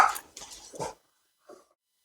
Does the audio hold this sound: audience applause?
no